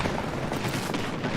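Dense, continuous video game gunfire, a loud sustained rattle of shots with heavy low-end rumble and no pauses.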